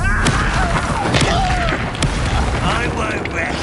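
A blasting spell explosion in the Hogwarts Legacy video game, with sharp booming impacts and crackling bursts spread over several seconds amid busy combat noise and character voices.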